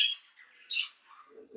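Cockatiels squawking in a cage, a few short shrill calls and chirps spread across under two seconds, fairly close and moderately loud with quiet gaps between.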